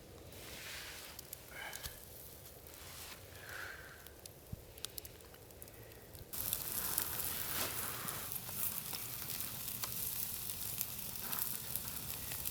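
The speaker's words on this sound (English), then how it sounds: "and now let's put it on the coals." Steak sizzling over rough campfire coals at a winter bushcraft camp, a steady crackling hiss that jumps louder partway through and then holds, with faint pops and no talk.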